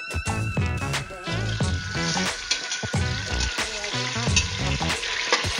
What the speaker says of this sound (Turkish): Çevire çevire bütün yüzeylerini mühürlüyorum.